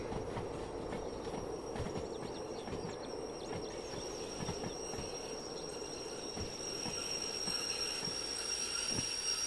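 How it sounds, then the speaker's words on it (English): A freight train brakes in the Derail Valley railway game, with a steady rumble of rolling wagons, wheel noise and a high brake squeal running continuously with no talk. "Start applying the train brake."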